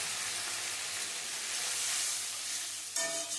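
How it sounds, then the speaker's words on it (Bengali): Close, steady sizzle and crackle from a pan of spiced egg posto frying as a splash of water goes in, with a sharp surge of hissing steam near the end. "এবার আমি জলটা দিয়ে দেব"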